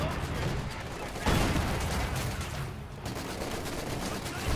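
Dense bursts of rifle and machine-gun fire from a Company of Heroes 2 battle rattle steadily throughout, with a louder volley near the middle under faint background talk.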